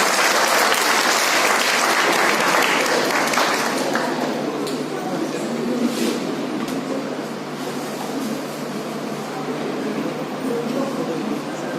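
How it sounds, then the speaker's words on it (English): Loud applause from the audience at a national seminar hall of a university School of Commerce, dense clapping at first that gradually thins and softens toward the end. "A big round of applause for the School of Commerce and its members."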